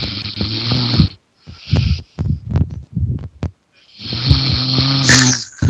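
Loud, close snoring: a long rattling snore, a few short choppy snorts and breaths, then another drawn-out rumbling snore.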